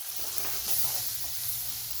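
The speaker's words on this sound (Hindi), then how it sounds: "ये देखें अच्छी तरह मसाला भून गया" Spice masala and soft tomato sizzle steadily while frying in a pan for a dal chana palak tadka, a continuous close hiss with no talk.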